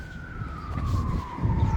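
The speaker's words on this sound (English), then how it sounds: "You hear the sirens, you hear the helicopter above too." A siren wails with a long, slowly falling tone, somewhat distant, over a low rumbling background with a helicopter overhead.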